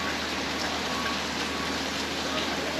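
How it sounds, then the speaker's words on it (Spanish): Heavy rain pours steadily during Hurricane Fiona on the Atlantic coast of Nova Scotia, Canada, a dense, even hiss with wind mixed in, close and unbroken with no voices. "El ruido de toda la lluvia y todo el viento"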